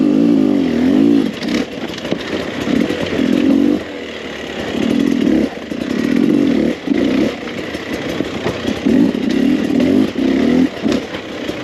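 A 2021 Beta 300RR two-stroke dirt bike engine revs and bogs repeatedly while riding through tight terrain, its loud, close buzzing rising and falling in bursts with brief dips between throttle blips.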